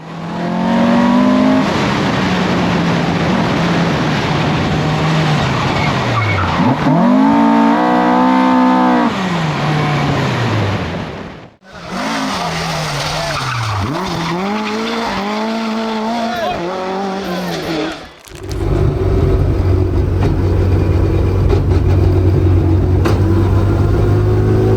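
Ford Escort RS Mk2 race car with a Pinto engine of slightly enlarged displacement, driving hard: a loud, close engine revs up and down through the gears in sweeping rises and falls, with two brief dips in the roar.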